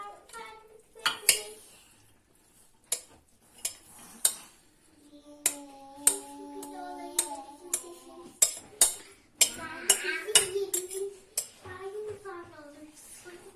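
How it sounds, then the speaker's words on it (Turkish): Pickle-style purple cabbage salad is scraped and tipped from a bowl into a serving dish, with a series of sharp utensil clinks and knocks, close and fairly quiet, while a voice talks softly in between. "Salatamı şöyle bir servis tabağının içerisine boşaltıyorum."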